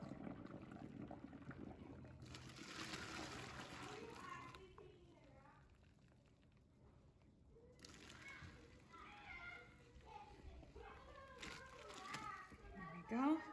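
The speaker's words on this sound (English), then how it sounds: "So I have a colander in the sink now, and we're just going to drain this very carefully" Hot pasta is drained from a pot into a colander in a kitchen sink, with two rushing bursts of splashing water while children chatter and play nearby.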